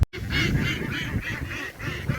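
Ducks at a duck farm where the birds are raised along a canal and open wetland, giving a close, lively chorus of repeated honking quacks in an even rhythm, with no talking.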